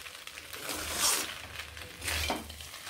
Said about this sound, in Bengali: এবার এখানে আগে থেকে ভেজে রাখা সবজিগুলোকে দিয়ে দিলাম। সবজিগুলোকে ভালোভাবে মিশিয়ে নিচ্ছি এর সঙ্গে।